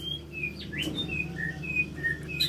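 A white-rumped shama, moulting, sings a series of clear, sweet whistled phrases, varied and fairly close, over a low background hum.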